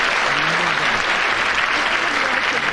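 Studio audience applause at the close of the radio panel game Just a Minute, a dense, steady wash of clapping holding at full level throughout, with a faint voice briefly underneath.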